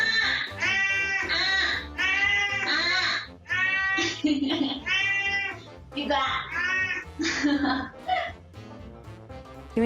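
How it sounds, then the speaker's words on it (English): A rude cat yowls in long, loud, wavering meows close up, trading calls back and forth with a person's voice answering between them. "Tips to deal with a rude cat: talk back at them."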